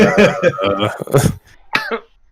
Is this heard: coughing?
yes